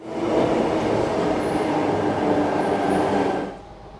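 A Sydney T4 line train runs along the track, giving a loud, steady rumbling roar with faint wheel squeals near the middle, then fading slightly at the end.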